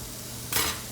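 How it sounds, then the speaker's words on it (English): Chopped onion dropped into a hot pan for a seafood boil, giving a short burst of sizzling that swells briefly over a steady background hiss. "I'm going to be adding my onion and just saute it for a couple minutes"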